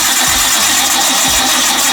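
A Nissan R32 Skyline, a barn-find restoration project, cranks over and fires, then settles into a steady, loud idle with an uneven low rumble close by.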